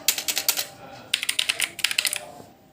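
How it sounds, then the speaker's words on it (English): Rapid keystrokes on a Redgear mechanical gaming keyboard held close to a headset microphone, clicking in two quick bursts with a short pause between, loud and close with no talk. "I had to bring the keyboard close to my mic."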